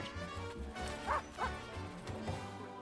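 A dog in a Greenies dental treats advert barks and yips in short bursts, a few sharp woofs with whimpering between, close and fairly loud against a low background.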